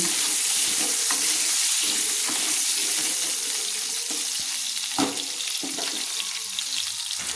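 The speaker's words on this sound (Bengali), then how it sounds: "আলুগুলো একটু হালকা হালকা লাল লাল করে ভেজে নিচ্ছি।" Potatoes fry in a pan, a loud, continuous close-up sizzle broken by occasional stirring scrapes and clinks.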